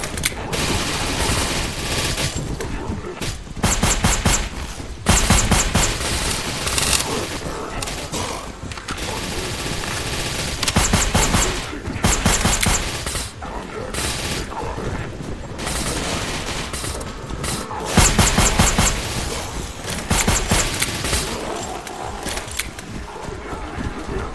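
Rapid bursts of automatic gunfire in a first-person shooter game come in repeated loud volleys separated by short pauses, with players talking in between.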